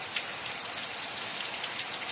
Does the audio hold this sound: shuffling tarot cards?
no